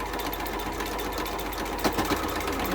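A sewing machine stitches quilt block pieces with a quarter-inch foot, running in a steady, fast mechanical hum with no talking.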